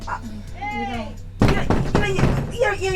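Sharp knocks on a door in a home at night, loud and close, arriving as a burst of thuds midway and continuing under overlapping voices talking.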